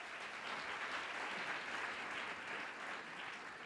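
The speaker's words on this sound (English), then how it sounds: "So let's keep the clapping going." Audience applause at a live in-person radio event in Hollywood, a dense, steady wash of many hands clapping that holds at a full level for the whole stretch with no voices on top.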